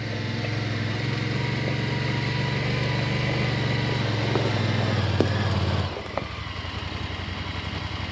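Generator for an electric demolition hammer during farm road repair, running with a steady close engine drone that drops to a lower, rougher note near the end, with a few faint knocks.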